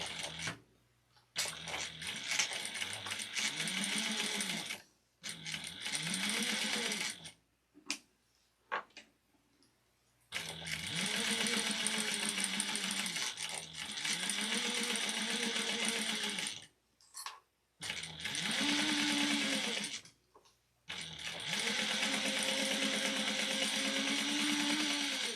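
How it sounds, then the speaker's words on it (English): A sewing machine stitches a crossbody bag seam at a 3/8-inch allowance, running in several sustained whirring bursts separated by short stops, close and steady, with no speech. "we're going to sew this at 3/8 of an inch."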